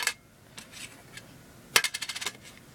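A copper penny dropped onto a hard surface, a short bright clink followed by a quick run of diminishing bounces with a dull, short ring, close and alone.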